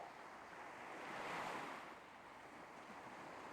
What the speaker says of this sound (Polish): zauważasz dźwięk fal toczących się tam i z powrotem w powolnym i głębokim rytmie, tak jakby ocean oddychał